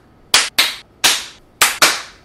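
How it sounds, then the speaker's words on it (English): Five sharp hand claps for audio sync in a kitchen before a cooking session, loud and close, each cracking sharply then ringing briefly in the room, with two quick pairs and a single clap between them. "Alright everyone, let's clap."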